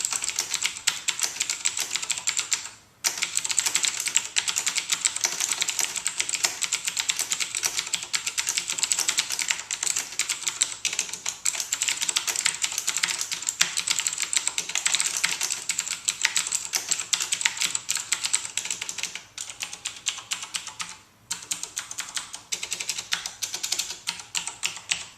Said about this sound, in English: you can hear the little clicking sound, the explicit clicking coming out of the switch as I push the keys down